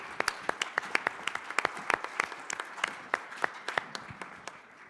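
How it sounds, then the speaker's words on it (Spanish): An audience applauds the panelists at a sustainability forum on food security and climate change, with quick, irregular individual claps that sound moderately close and gradually thin toward the end. "un aplauso para nuestros panelistas"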